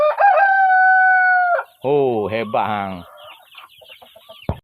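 A rooster on a farm gives a long, loud crow, then breaks into a run of harmonic clucks and squawks close by, followed by a few softer clucks and a brief exclamation from a person.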